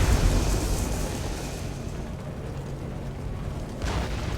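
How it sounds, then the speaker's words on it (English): Explosions rumble in Mass Effect 2 on the Firewalker mission: a sustained, dense low roar of blasts with no distinct gaps, swelling slightly at the start and again near the end. "Everything's exploding everywhere."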